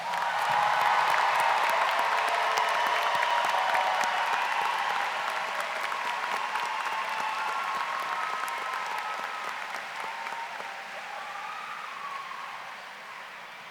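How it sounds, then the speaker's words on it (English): A high school graduation audience for the class of 2024 claps together in a sustained, even round of applause that slowly fades toward the end. "Let's give our seniors a round of applause."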